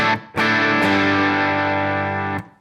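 Dry electric guitar through a Tube Screamer-style overdrive strikes a single sustained distorted chord that rings evenly for about two seconds before cutting off, with a TC Electronic echo trailing at the end.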